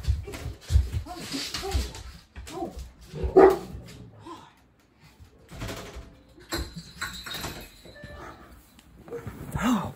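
A dog stands in an open doorway barking in repeated bursts, with some yips and a whimper among them, loud and close, while a person talks over parts of it.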